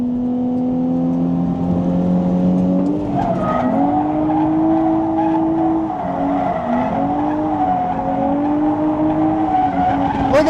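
A rebuilt Nissan 350Z drifts at a private drift day, its engine droning and shifting pitch while the tires squeal continuously across the run, close and loud with no talking.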